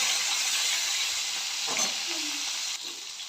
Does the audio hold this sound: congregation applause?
no